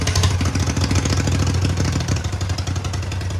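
A Mighty Mac 8c skid steer engine, once seized and rescued from a scrapyard, runs close by with a loud, rough idle, its chugging rhythm and clatter wavering as the governor catches.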